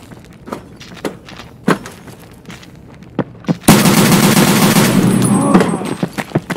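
Gunfire in Escape from Tarkov, starting as scattered sharp single shots and then breaking into a loud, sustained burst of rapid automatic fire with a few trailing shots at the end.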